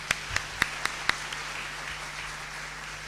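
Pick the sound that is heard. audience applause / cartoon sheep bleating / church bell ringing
audience applause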